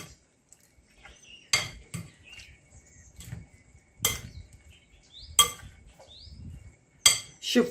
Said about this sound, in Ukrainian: Тепер це все гарно потрібно перемішати.